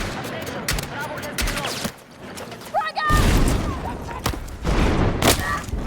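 Shotgun fire in Battlefield 6 during close-range fights, with several loud booming blasts and mechanical action sounds amid busy game noise, a sharp burst near the middle and more shots toward the end.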